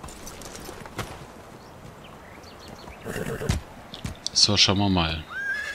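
A horse ridden in the Medieval Dynasty video game, clip-clopping hooves under a man's casual speech, then a loud whinnying neigh near the end.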